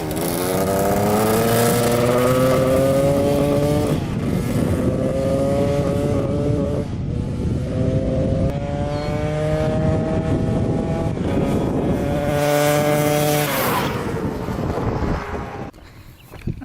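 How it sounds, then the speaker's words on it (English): Cheap dirt bike passing by on a road, engine revving up through rising and falling pitches with gear changes, loud and close with heavy wind noise before fading away near the end. "Just do a little flyby, see what that looks like, and see if we can get it to rev out here."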